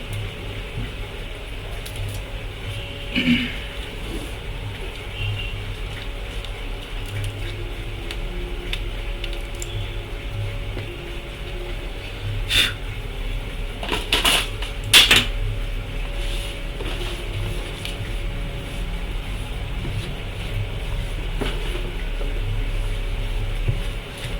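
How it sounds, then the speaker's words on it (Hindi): Bristle brush scrubbing a liquid-damaged LA-G073EP laptop motherboard on a workbench, a steady close scratchy rasp running throughout with a few sharper clicks and taps. "इसको थोड़ा सा पहले ब्रश मार लेते हैं अच्छे से, उसके बाद फिर देखते हैं।"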